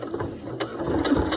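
A sewing machine stitches a hem on denim jeans at close range, its quick, steady mechanical whir running through the short stretch without pause.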